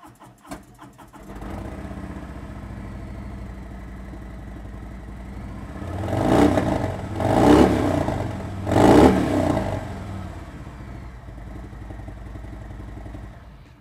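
The engine of a 2018 Harley-Davidson FLTRX Road Glide touring motorcycle idles with a deep rumble, then revs up three times in quick surges before settling back to a steady idle.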